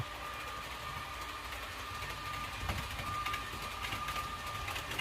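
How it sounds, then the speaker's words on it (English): A Z gauge model train runs on a layout, giving a steady low rumbling hum with a faint whine, continuous and even throughout, with no speech. "this train should come back in now. It's all ready for coming in back into platform 1 shortly"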